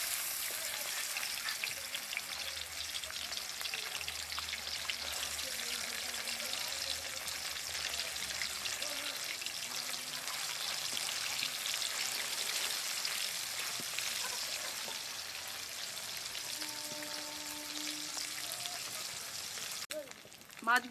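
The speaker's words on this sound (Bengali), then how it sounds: "এখন মাছগুলো ভেজে নেব।" Fish frying in hot mustard oil in a wok in a village kitchen, giving a steady, even sizzle and crackle that continues throughout at a moderate level.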